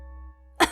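A single short cough bursts out near the end, close and fairly loud, after a quiet stretch with only a low hum, inside a dusty, empty livestock barn lit by a few small bulbs powered by a small generator.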